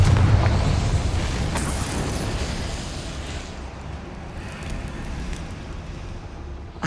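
The Confringo explosion spell in the video game Hogwarts Legacy bursts with a loud rumbling boom that slowly decays into a fading, crackling roar.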